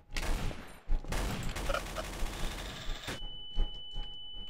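Rapid bursts of gunfire from a Trouble in Terrorist Town video game round, loud and dense for about three seconds before tapering into scattered shots with a steady electronic tone.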